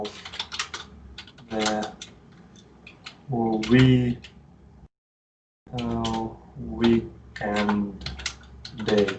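Clicky computer keyboard typing while a programmer practises writing code, with clusters of key presses mixed in and running under steady talking, including a short silent gap midway.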